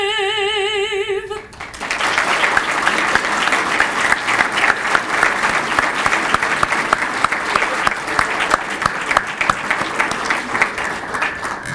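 Audience at a mayor's scout breakfast breaking into sustained applause right after the national anthem, the clapping rising sharply and holding dense and loud for about ten seconds, with a few cheers inside it.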